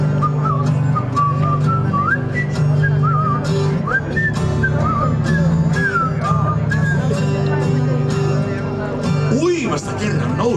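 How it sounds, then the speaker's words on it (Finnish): A person whistles a wavering melody during a comic couplet song performance, the whistled line rising and falling over steady sustained backing tones and a faint murmur of the room. "ja aloin viheltää"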